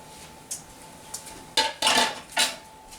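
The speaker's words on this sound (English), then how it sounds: "that's going to go into my stock pan, which I've already kind of been heating up" Whiskey and warming spices go into a pre-heated stock pan, making a few sharp metallic clinks and clatters, then louder splashy scraping bursts, close up with no talking.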